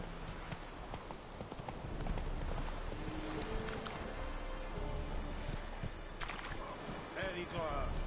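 Roach the horse gallops in The Witcher video game on PS4, with continuous rhythmic hoofbeats over a dense rumble of game ambience and voices.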